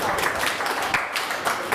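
A continuous wash of clapping and cheering from a crowd, steady and moderately loud throughout, with no distinct voices standing out.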